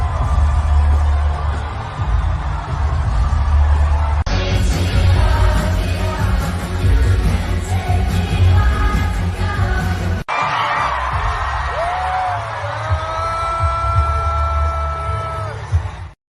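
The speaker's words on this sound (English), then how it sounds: "I haven't heard cheering like that" Crowd at a Kamala Harris political rally cheering and whooping loudly and continuously, a dense roar of yelling voices with a sharp break partway through before the cheering resumes.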